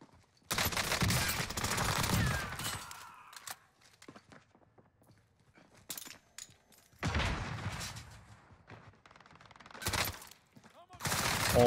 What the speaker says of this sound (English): I think it's a sentry gun.